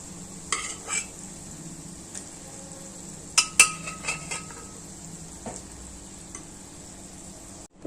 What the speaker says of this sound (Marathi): आता आपण कुकरमध्ये चणे शिजवून घेतले होते ते टाकूया.